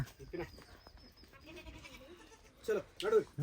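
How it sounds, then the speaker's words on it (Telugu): Goats bleat a few times close by, under and between people's conversation in a quiet setting. "అన్న ఆల్రెడీ మేకలు ఇప్పుతానే ఉన్నాడు."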